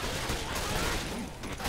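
Rapid bursts of gunfire from the co-op zombie shooter Left 4 Dead 2 crackle densely and continuously, fairly faint and without talk over them.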